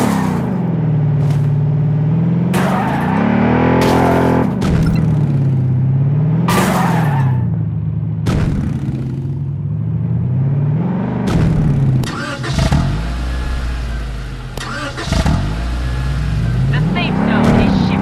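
Vehicle engine in the Blood Strike battle royale shooter, a mid-pitched motor that rises and falls in pitch as it drives, with skids and sharp bursts, loud and steady throughout.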